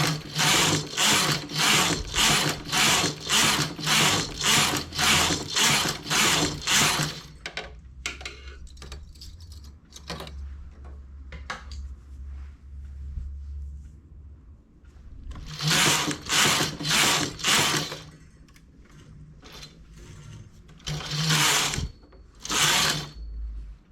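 A knitting machine casting on runs in loud, rhythmic bursts of rapid mechanical clatter, with quieter gaps of faint clicks and handling between the passes.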